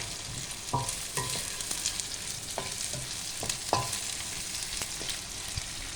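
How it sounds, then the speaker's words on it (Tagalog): Bitter gourd (ampalaya) sautéing in a pan until brown, with a soft steady sizzle and occasional light clinks and scrapes of a utensil, close but fairly quiet, no talking. "sutihan natin na mag-brown para masarap"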